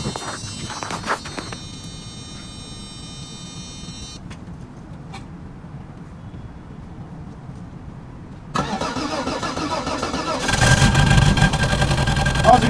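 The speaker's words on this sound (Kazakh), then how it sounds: "Машина әдемі жасап тұр, міне оталды, қашты" A car engine cranks and catches after freezing in frost, with condensate frozen in the exhaust muffler, then settles into a steady idle that grows louder near the end, with a voice over it.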